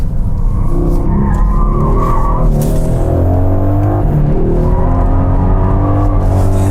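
A Mercedes-AMG GLC63 4Matic+ Coupe corners hard on a mountain road, its tires squealing loudly over a close, steady engine roar, with a second screech building toward the end.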